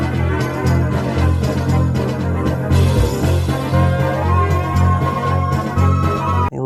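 Dense, continuous Fire Emblem music plays with a sliding tempo stretch and smeared, echoing wash, the rhythm sounding stretched and blurred throughout.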